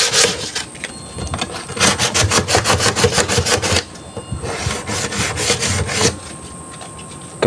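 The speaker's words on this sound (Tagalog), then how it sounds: "liyahin naman natin siya ng 240 na liha mga ka-painters" Varnished wooden cabinet being hand sanded with 240-grit sandpaper, rhythmic rasping back-and-forth strokes in close bursts separated by short pauses.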